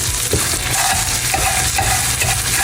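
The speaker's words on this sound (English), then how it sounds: "Got it ready sizzling." Melted butter sizzling in a frying pan, a close, steady crackling hiss with soft stirring scrapes and no talk.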